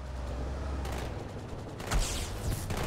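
A mounted gun fires in Halo 2, a dense, continuous rattle of rapid shots with a heavier burst near the end, loud and close with no talk.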